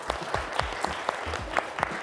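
A studio audience of about thirty people applauding, a dense steady patter of close hand claps filling the room with no voices over it.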